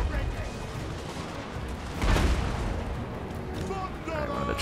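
Battlefield gunfire rattles at trolls during a fantasy battle in Total War: Warhammer, with dense overlapping shots and booms forming a loud, continuous din and a heavier burst around the middle.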